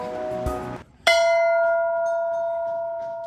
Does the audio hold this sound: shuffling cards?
no